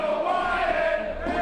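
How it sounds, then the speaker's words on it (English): Crowd at a wrestling championship match cheering for the champion, a dense, loud, sustained roar of many voices with chant-like tones, continuous across the whole moment. "Everybody here cheering for the champ except for one moron in the crowd."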